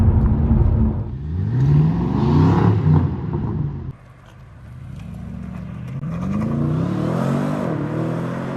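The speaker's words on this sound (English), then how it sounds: "So this is a hard acceleration of 50 miles an hour." A BMW M850i accelerates hard from about 50 mph, its engine note climbing loud and close in rising sweeps, easing briefly mid-run before building again under sustained throttle.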